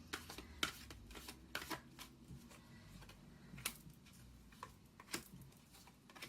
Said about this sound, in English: And I threw 3 cards from the 8th house tarot for Cancer, Sun, Moon, and Rising concerning love